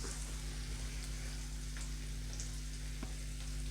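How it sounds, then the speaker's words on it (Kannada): Onions and green chillies fry steadily in a pan, giving an even, close sizzle that runs throughout with no talking and only faint stirring clicks. "ಈಗ ಈರುಳ್ಳಿ ಸ್ವಲ್ಪ ಫ್ರೈ ಆಗಿದೆ"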